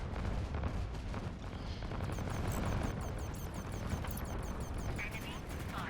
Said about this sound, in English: There you go, you can hear overheating.